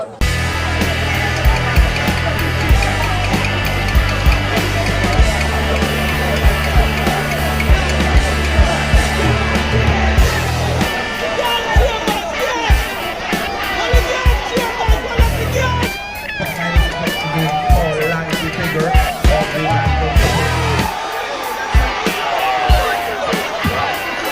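A loud crowd cheers and shouts continuously at a military boxing championship, dense roaring with whoops and calls, steady throughout and close.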